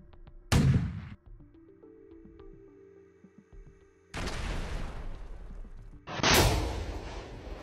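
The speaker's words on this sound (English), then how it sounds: "Russian artillery is shelling the fortifications of the Ukrainian armed forces." Artillery shelling of trench fortifications in the Russia–Ukraine war: two heavy, loud booming blasts with long rumbling tails, the first near the start and a second pair of impacts late, separated by a quieter stretch of low background rumble.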